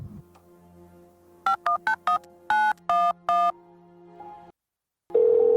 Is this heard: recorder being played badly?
no